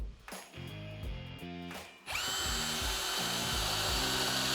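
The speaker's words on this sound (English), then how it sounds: "then we'll drill our pocket holes" A power drill whirs in short bursts, then runs in a long steady high-pitched grind as it bores pocket holes into wood, close and loud.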